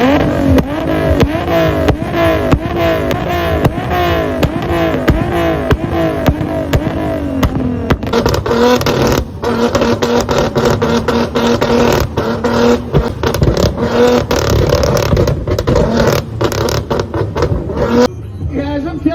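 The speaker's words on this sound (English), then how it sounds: "if you can hear that turbo from where I'm standing" Turbocharged car at an exhaust flame-spitting competition, revving in a rapid rhythmic series of loud bursts, then giving way to sustained crackling, popping exhaust with sharp bangs, close and loud.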